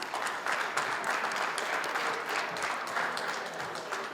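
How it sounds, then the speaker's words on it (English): A room full of people applauds the speakers at a pool and water industry event, the clapping moderately loud, dense and continuous from start to finish. "So can we get a round of applause for them that came out here and talked today?"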